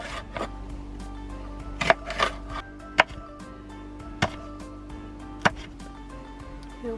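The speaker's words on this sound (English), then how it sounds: "get to chopping" A knife chops vegetables on a cutting board in a van kitchen, giving a few sharp, scattered knocks over a low steady hum.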